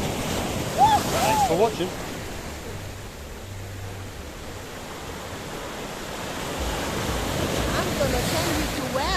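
Sea waves wash steadily at the Paphos seafront in Cyprus, a broad, continuous surf hiss with some wind, while people talk faintly nearby.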